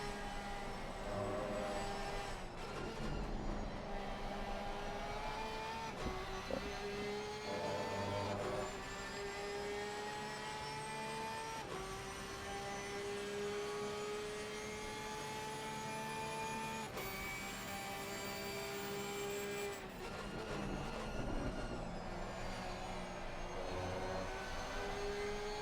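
A Porsche race car engine in Assetto Corsa Competizione during an endurance race at Silverstone holds a continuous tonal drone whose pitch rises and falls slightly, steady and unbroken with no talk.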